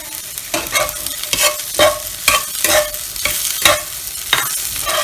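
Tandoori chicken and onion masala for a dosa filling being stirred in a pan, with loud, rhythmic spatula scrapes about every half second over a steady close sizzle.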